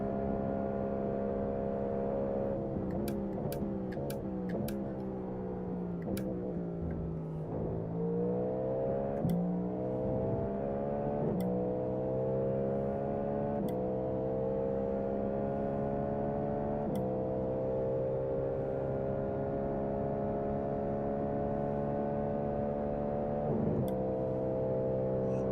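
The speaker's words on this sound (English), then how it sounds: "Bounced it off the rev limiter a little bit" A GTP race car engine at Le Mans, steady and close, with its pitch rising and falling as it bounces repeatedly off the rev limiter, broken by sharp cuts and clicks.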